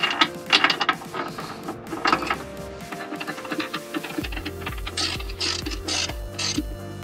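Ratchet wrench tightening bolts on the suspension control arm of an Alfa Romeo 159, sounding as rapid clicking pawl bursts, close and fairly loud, with a busier mechanical ratcheting run toward the end and no talk.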